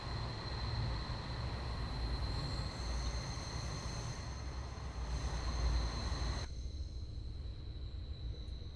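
A Voyager VT221 tilting train runs in Train Simulator with a steady rumble of wheels and a thin high whine over it, moderately loud. Near the end the upper hiss cuts off, leaving a duller interior roar.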